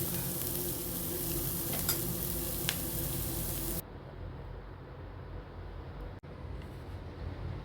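A spiced mixture with pepper powder and garam masala sautés in a pan, giving a steady close sizzle with stirring scrapes that drops to a quieter, softer fry partway through.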